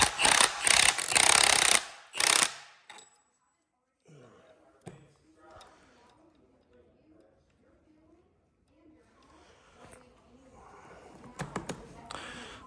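An impact wrench torques nuts on the front differential of a 2014 Chevy Silverado 1500 4x4. Loud, close rattling bursts come in quick succession at first, then give way to quieter scattered mechanical clicks and knocks.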